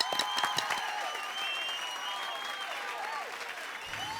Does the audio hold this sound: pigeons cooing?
no